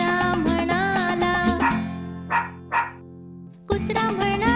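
A cartoon dog barks a few times over a busy musical backing in a Marathi children's animal song, with two short bursts in a quieter break between fuller music passages.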